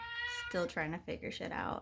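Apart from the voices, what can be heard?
cat meowing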